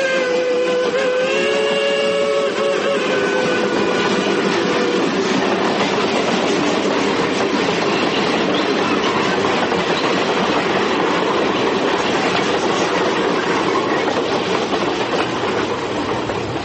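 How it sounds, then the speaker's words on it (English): A radio drama sound effect of a train rushing through a tunnel: a loud, continuous rumble and rattling clatter of wagons, with a whistle-like tone at the start that fades into the steady roar. "the train entered a tunnel."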